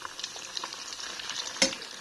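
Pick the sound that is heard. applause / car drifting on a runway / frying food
frying food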